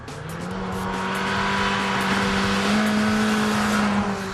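2008 Mitsubishi Lancer GTS engine droning steadily under hard cornering, loud and close with a rising then sustained engine tone and broadband road and tire noise.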